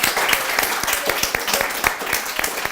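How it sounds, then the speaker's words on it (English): Audience applause for Her Excellency Ambassador Fatima Kyari Mohammed at a fireside chat event, a steady patter of clapping hands through the whole stretch, moderately loud with some voices mixed in. "a big round of applause to Her Excellency"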